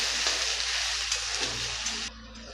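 Okra frying with ground chutney and turmeric in a pan gives a steady, close sizzle with soft stirring scrapes that trails off near the end, with no voices.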